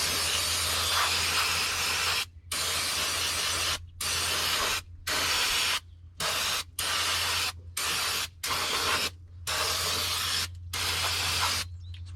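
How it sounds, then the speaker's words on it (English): Brake cleaner sprayed onto the PTO housing of a Mahindra 2555 tractor in a series of loud, close hissing bursts, about a dozen of them separated by short pauses over a low steady hum. "spray it off with a little bit of brake cleaner"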